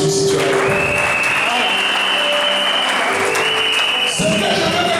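A church congregation applauds loudly and continuously, dense clapping from a large crowd filling the whole stretch, with voices mixed in under it.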